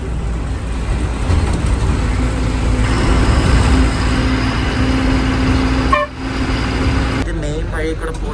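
Bus running along a winding road toward Jog, steady engine rumble and road noise with a sustained horn toot partway through, background voices, and a sudden shift in the noise near the end.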